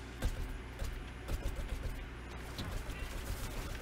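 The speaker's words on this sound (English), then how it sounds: "I'm shooting at him." Gunfire in Plants vs Zombies Garden Warfare 2, heard as rapid, dense bursts of shots over a constant low game rumble, with sharper cracks recurring steadily through the clip.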